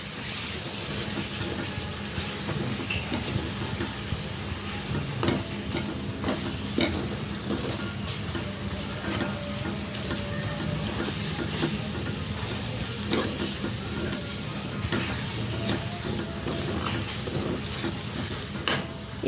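Chili powder and mixed masala fry in oil for chicken biryani and are stirred, giving a continuous close sizzle with scraping stir strokes and small pops, no talking.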